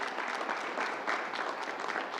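A crowd at a New York governor's public announcement in Queens claps for Jane Rosenthal, a thick, continuous wash of applause that stays even and close with no voices over it.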